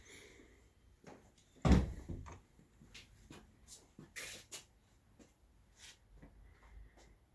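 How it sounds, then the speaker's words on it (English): Doors in a house with a mudroom and garage open and close, bringing one loud thud or slam followed by a series of softer clicks, knocks and latch taps at irregular intervals, close by. "Front door, back door, garage door."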